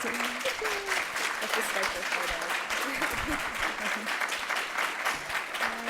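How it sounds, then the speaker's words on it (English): A conference audience claps steadily and warmly after a talk, a dense continuous patter of applause with a few voices mixed in beneath it. "Can we have a round of applause?"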